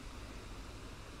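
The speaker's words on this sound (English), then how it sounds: "this is the sound of a windy and sunny spring morning in the Westerpark" Steady broadband rush of wind on a sunny spring morning in Amsterdam's Westerpark, a continuous even wash of air with no distinct events and no voices.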